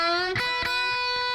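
Distorted electric guitar in a solo bends a note on the third string, then strikes the first string twice, sustained singing tones with sharp pick attacks, loud and close with no talk.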